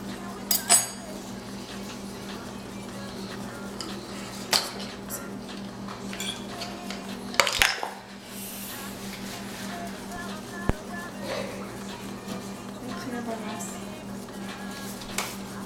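Chocolate cake batter mixed in a bowl, a utensil clinking and scraping against the bowl in irregular taps and a few louder knocks, fairly close, under ongoing kitchen conversation.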